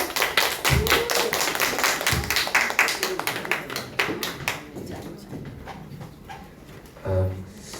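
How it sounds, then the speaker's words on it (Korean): Audience applause at a business presentation and seminar welcoming a speaker to the stage, with steady clapping that thins out and fades after a few seconds while a voice talks over it. "여러분 큰 박수 부탁드립니다"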